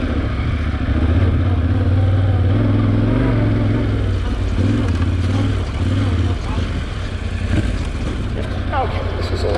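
Yamaha Ténéré 700 adventure motorcycle ridden over rough off-road terrain; a loud, steady engine drone with shifting pitch runs throughout under constant wind rush and rattling, close to the rider.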